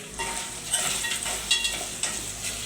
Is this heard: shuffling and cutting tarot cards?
no